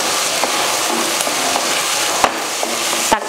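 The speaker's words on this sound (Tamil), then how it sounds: "இப்போ எல்லாத்தையும் ஒன்றா வதக்கி தக்காளியெல்லாம் நல்லா மசிஞ்சு வரும்" Tomatoes with ginger garlic paste sautéing together in a pan for egg pepper curry, a steady close sizzle broken by soft stirring strokes and two sharp spatula knocks against the pan near the end.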